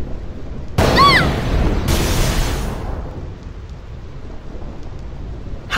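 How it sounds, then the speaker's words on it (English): Thunder and lightning on the Thunder Plains in Final Fantasy X: a sudden loud crack followed by a long rumbling roll over steady rain, fading into a low storm wash. "See the lightning rod towers? The lightning is drawn to them, hopefully."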